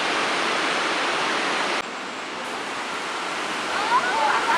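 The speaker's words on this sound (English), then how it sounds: "Down below are the Whirlpool Rapids." The Whirlpool Rapids on the Niagara River send up a broad, constant rushing roar, heard from above at a distance, steady in level with a brief dip partway through.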